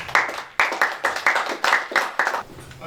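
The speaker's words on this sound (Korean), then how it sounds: "우리 목사님 함께 하셨는데 우리 박수로 맞아주시죠" Church congregation clapping to welcome a visiting pastor, landing in close unison bursts with a strong, regular rhythm of about eight loud claps, up close and with no one talking over it.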